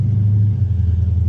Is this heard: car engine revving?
yes